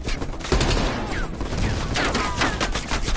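Heavy machine gun fire rattles in Call of Duty Black Ops Cold War, a dense continuous fusillade of loud rapid shots with battle noise throughout.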